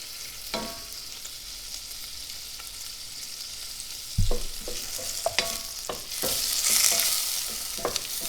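Shellfish shells sizzle and crackle steadily in a hot pan, with scattered clinks and scraping of utensils stirring, growing a little louder toward the end.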